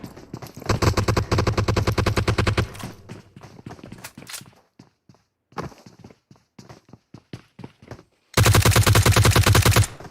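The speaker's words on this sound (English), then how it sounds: "Jess taking shots over at Adayari with the M16." M16 rifle fire in a video game: long rapid automatic bursts, loud and close, broken by scattered single shots and a pause, then another sustained burst at the end.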